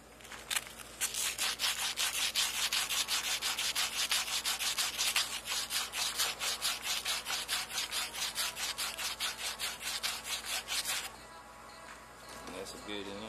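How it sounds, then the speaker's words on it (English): Rapid back-and-forth rasping of sandpaper scrubbing a copper pipe end before brazing, a fast even rhythm of strokes for about ten seconds, close and fairly quiet, then stopping. "Get your copper, get some sandpaper, we got to get this ready to be soldered."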